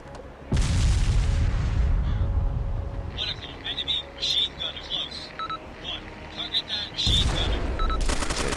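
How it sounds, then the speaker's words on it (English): Gunfire in the military video game ARMA 2: a few loud, sharp shots ring out near the start and again near the end, with quieter clicks and game sounds in between and no talking. "managed to get a clean shot on him here. And drop him with a few shots."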